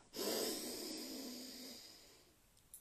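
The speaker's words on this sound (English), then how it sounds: "we're going to breathe out through the mouth" A slow, audible exhale through the mouth during a guided circular-breathing meditation, one long soft breath fading out over a couple of seconds, close and quiet, with no talking.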